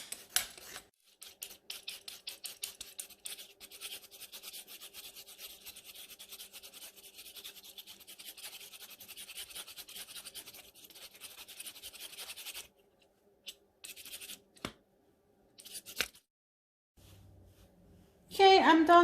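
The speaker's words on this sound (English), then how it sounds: "Now I'm gonna start shredding the carrot, and I'm just gonna do it with a peeler, just like this." A carrot shredded with a peeler, close and crisp: rapid repeated rasping scrapes, at first in quick bursts, then a long continuous run, then scattered strokes, with a brief voice near the end.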